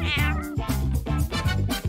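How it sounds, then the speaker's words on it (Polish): A cat meows loudly and close by, giving a few drawn-out, wavering cries in quick succession with no talk over them. "Kot!"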